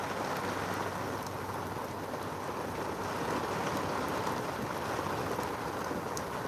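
Steady rain and wind on a sailboat during a small storm form a dense, continuous hiss with no pauses, loud and close all around.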